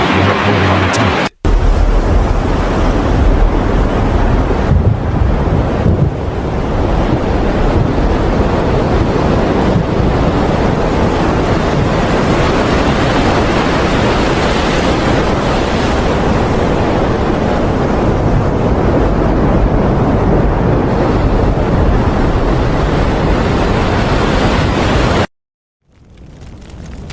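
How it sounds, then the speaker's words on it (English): Typhoon with level 11 gusts roaring continuously at close range, a dense, loud rush of wind buffeting the microphone for nearly the whole stretch before cutting out abruptly near the end. "A typhoon with level 11 gusts swept everything away."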